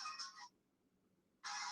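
A new basic mobile phone rings quietly in two short electronic bursts separated by a pause of about a second.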